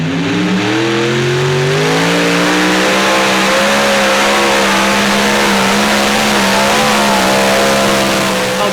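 A super modified pulling tractor roars loudly and continuously through a pull, its engine pitch climbing steadily then holding high and strained, dominating the sound with no talk over it.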